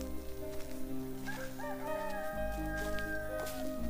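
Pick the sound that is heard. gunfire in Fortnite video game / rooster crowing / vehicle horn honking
rooster crowing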